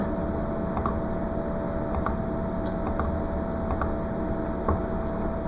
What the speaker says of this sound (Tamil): கஸ்டமரோட நேம் டைப் பண்ணிக்கலாம்